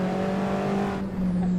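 An Alfa Romeo 4C in Assetto Corsa holds a steady, buzzing engine drone at high revs, then the pitch dips briefly as if shifting before the engine note resumes, loud and close with no talking.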